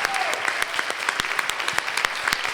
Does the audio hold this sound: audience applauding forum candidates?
yes